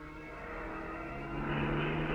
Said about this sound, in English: as the Spitfire once again accelerates away